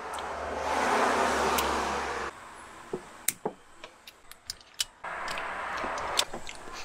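Cutters snip through the fuel pump wiring on a Nissan Stagea RB25DET: a quick run of sharp, quiet clicks and snips, set off by stretches of steady background hiss.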